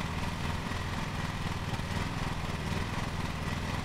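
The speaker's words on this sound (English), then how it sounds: "it's hard to back a zero-turn mower" A zero-turn lawn mower engine from Lawn Mowing Simulator drones steadily at close range, a constant low rumbling hum with no talk over it.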